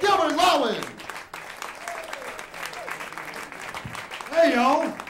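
Applause from a comedy club audience greets the next comic, with a bright burst at the start and another swell near the end, while a host talks over the clapping in the middle.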